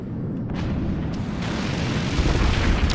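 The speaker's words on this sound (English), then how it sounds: "Heavy mortars there coming in, dealing some damage to Domy's base" Heavy mortar shells in the physics-based fort-battle game Forts pound an enemy base, a dense, continuous rumble of blasts and booms that swells louder toward the end, with no talking.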